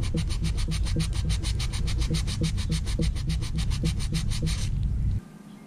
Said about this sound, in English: I used a file and sandpaper to put the edge on.